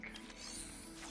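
In Death Stranding 2, hair spray is fabricated on a backpack, heard as a brief, soft mechanical whir and clicking with a steady low hum throughout.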